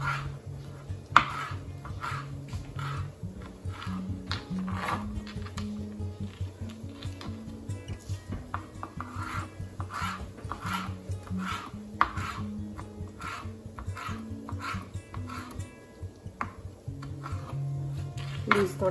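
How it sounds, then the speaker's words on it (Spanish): A knife slicing a chile pepper into thin julienne strips on a board, with a steady run of quick, evenly spaced chopping taps heard up close, and a low hum underneath. "voy a partir el chile y lo vamos a partir en juliana"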